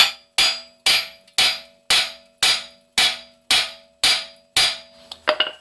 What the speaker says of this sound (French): Vous cognez avec un marteau